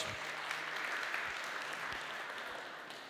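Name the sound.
audience applause for a jury member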